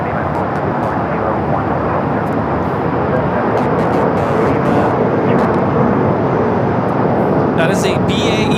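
A BAE 125-800A business jet roaring steadily at LAX, a loud broadband jet rumble close by that holds through the whole stretch with no talk over it.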